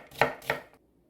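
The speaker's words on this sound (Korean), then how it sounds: "양파는 적당한 굵기로 채를 썰어서 준비할 거예요." A knife slices through onion on a cutting board in two crisp, close chops, followed by quiet.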